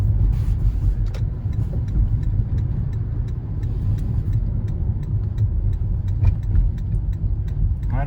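A Toyota car drives and turns, heard from inside as a steady low engine and road rumble with faint repeated ticks, holding a constant level throughout with no talk.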